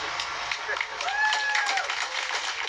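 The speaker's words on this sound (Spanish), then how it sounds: "Fuerte aplauso para la nueva Junta Directiva" Crowd applause at a swearing-in ceremony for a new board of directors in the Ngäbe-Buglé comarca, a steady dense patter of clapping from many hands heard at a moderate distance.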